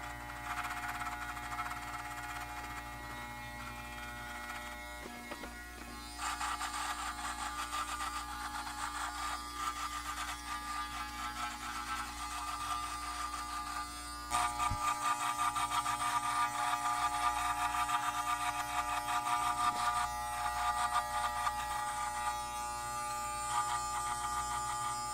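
A T-outliner hair trimmer buzzes close up while cutting stubble down to the skin, a continuous steady electric whine that shifts slightly in tone and grows a bit louder as the blade presses in.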